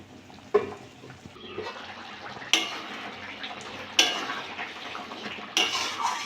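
Chana masala with a little sugar stirred in a pan: a few sharp metal spoon scrapes and clinks against the pan at irregular intervals, over a soft background of shuffling kitchen noise, with no talking.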